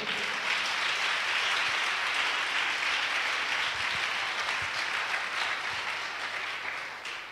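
A church congregation applauds during a January worship service, a dense, steady wash of clapping from many hands that holds strong throughout and fades slightly toward the end, with no talk over it.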